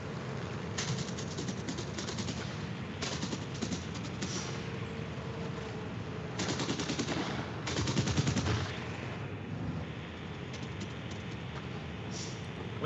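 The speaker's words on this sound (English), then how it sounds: "The guns sound amazing too." Aircraft machine guns fire in a flight combat video game, long rattling bursts at several points over steady engine drone, no talk.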